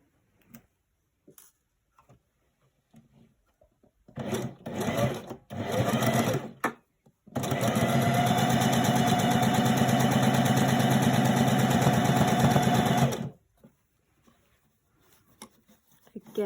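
A sewing machine stitches a fabric face mask with elastic, a few short stuttering bursts of whirring followed by a long, steady, loud run of rapid mechanical stitching that stops cleanly, with quiet handling noises around it.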